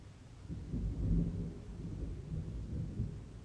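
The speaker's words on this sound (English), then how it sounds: "Where did the thunder come from?" Distant thunder rolls low and soft, a faint, swelling rumble that rises and falls with a steady background hiss and no voices.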